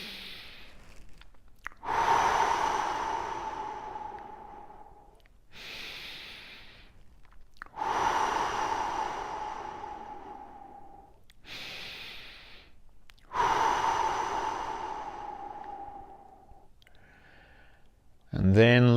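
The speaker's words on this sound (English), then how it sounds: "we're going to start as usual with 3 big deep breaths" Three big, deep breaths are taken one after another, each a long, loud breathy exhale that slowly fades, separated by quiet pauses.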